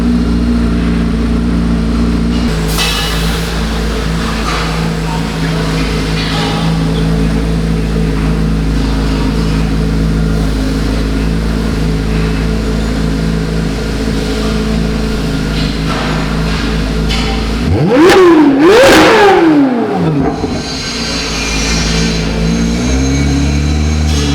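A Chevrolet Corvette C8 Z06 with its flat-plane V8 and AWE exhaust idles loudly up close, then blips through a sharp rising and falling rev near the end before settling back to a rumbling idle.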